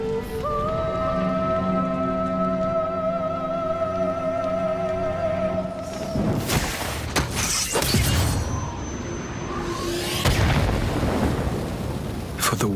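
A thunderstorm in a Final Fantasy XIV Endwalker cutscene, with steady rain under a held musical drone and then loud, close rumbling thunder claps in the second half.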